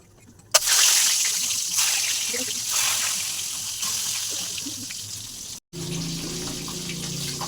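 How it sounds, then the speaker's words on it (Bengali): Eggs frying in hot oil for an egg curry, a steady broadband sizzle that starts abruptly and runs on with a brief cutout near the end, while faint talk sits underneath. "তো আমরা প্রথমে ডিমটা ভেজে নিচ্ছি"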